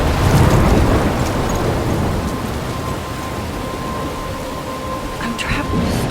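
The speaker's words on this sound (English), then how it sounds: "I'm trapped in a storm?" Storm in the video game Life Is Strange, with heavy rain pouring steadily and a deep rumble of thunder swelling near the start, loud and enveloping throughout.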